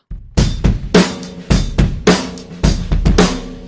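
Heavy, punchy drum hits struck with the butt end of the sticks in a steady pattern, about a dozen strong wooden thwacks with full low body and ringing cymbal wash.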